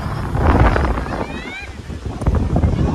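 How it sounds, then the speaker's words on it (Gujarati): Strong cold wind buffets the microphone by the sea near Jay Bhavani temple in Mahuva, gusting in rough rushes with a faint whistle partway through. "દરિયામાં ભાઈ ઠંડો પવન આવે છે"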